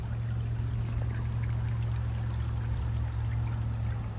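A clear stream flows in a steady, even rush of water, close and continuous, over a low constant hum, with no voices.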